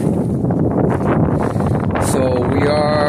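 Steady wind roars across an outdoor work site on a dry, windy day, a constant broadband rush buffeting the microphone throughout, with a voice speaking briefly toward the end.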